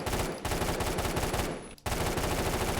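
Rapid bursts of gunfire from a low-recoil SMG in the shooter game Phantom Forces, loud dense volleys with a brief pause between bursts, no talking.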